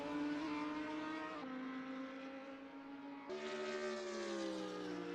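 GT race cars lap the Monza circuit, engines droning in sustained tones that shift pitch as they pass, one car's note giving way to another, heard from a distance at moderate loudness with no talk.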